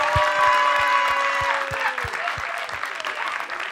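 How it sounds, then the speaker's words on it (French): Audience applause on a French television entertainment show starts loud right after a voice finishes speaking, then slowly thins and fades. A few sharp, separate claps stand out through it. "applaudissez-les bien fort"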